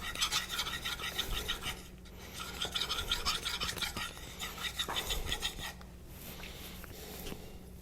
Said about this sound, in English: I'm doing the twisting with my wrist. I'm letting the diamond abrasive do the work.